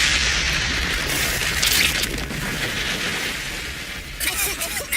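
A rushing, roaring blast from a fired missile in an animated action scene, a sustained heavy rumble with bursts of crackling debris, loud and continuous with a second surge toward the end.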